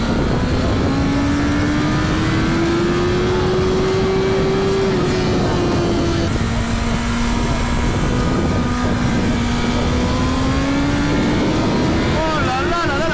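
BMW M1000RR superbike accelerating hard on a race track, its engine note climbing steadily through the gears with sustained, loud rising whine and brief shift dips, heard close from the rider's position with wind rush.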